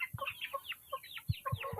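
Chickens cluck in a farm garden coop, several birds making quick repeated clucks and short calls at moderate distance, with occasional soft thumps and no talking.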